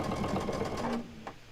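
Sewing machine, a Baby Lock, stitching rows of a small star quilt block together, a steady close whirring hum that runs for about a second and then stops.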